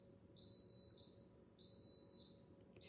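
An Instant Pot cooking brown rice gives two sustained high-pitched electronic beeps, each lasting about half a second, over a low indoor hum in a quiet room.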